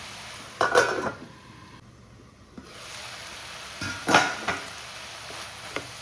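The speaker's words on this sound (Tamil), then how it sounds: "மசாலா வடை போகிற வரைக்கும் நல்லா கிண்டிக்கலாம்" A carrot stir-fry (poriyal) is stirred in a pan on the stove: a few close metal scrapes and clanks of the utensil over a soft, steady sizzle, with no voices.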